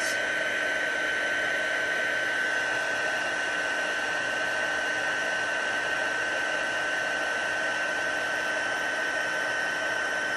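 An embossing heat tool blows hot air onto a card to melt embossing powder, producing a loud, steady whirring hiss with a constant high whine that never changes.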